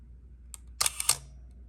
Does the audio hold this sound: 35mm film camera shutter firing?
yes